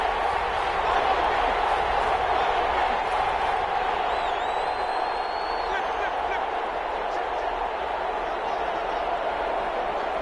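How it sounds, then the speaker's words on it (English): Stadium crowd in a football video game builds before a big third down, a continuous roar of cheering crowd noise at an even, moderate level, with a few faint whistles or whoops rising partway through. "the crowd getting into it as we come up on a big third down."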